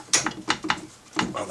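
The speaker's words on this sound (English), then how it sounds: "Now I'm going to try to take this bolt out of here" A wrench or ratchet working a bolt loose on the front wheel of a 1999-2001 Volvo S60 during a wheel bearing job, a few short metallic clicks and scrapes in quick succession, close and fairly quiet.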